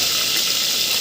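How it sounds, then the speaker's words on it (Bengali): Shrimp frying in a hot pan gives a steady, bright hiss of oil that holds even and close throughout, alone with no voices. "মাছটা একটু ভেজে নেব"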